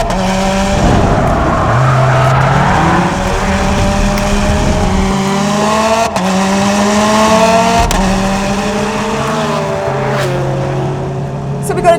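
The 2.5-litre boxer engine of a Prodrive P25 Subaru Impreza is driven hard on a track, loud and close, with revs rising and falling through repeated gear changes and a hint of tyre noise.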